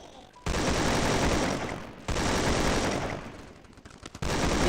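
Sustained bursts of rapid, loud gunfire from a video game, two long volleys separated by brief gaps, dense and continuous.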